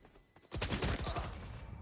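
Quick rattling burst of gunshots in a Valorant tournament match, fairly faint and dense, starting abruptly and fading over about a second.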